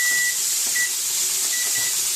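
A thin electronic beep sounds briefly several times over a steady background hiss, a 2-minute kitchen timer going off while searing London broil.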